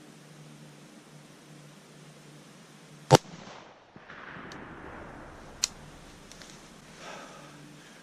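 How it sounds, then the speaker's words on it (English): A single hunting rifle shot fired at a deer outdoors, one sharp loud crack against quiet background, followed by faint rustling and a second smaller click. "I just shot this one here in the back of the head"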